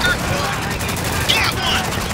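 Rapid gunfire in the Spec Ops: The Line combat game crackles steadily in the background under a dense wash of battle noise, without standing out as separate shots.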